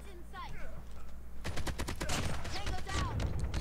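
Rapid automatic gunfire rattles in COD Mobile, starting abruptly after a quieter stretch of game effects and continuing in dense, close bursts of shots with some overlapping sound effects.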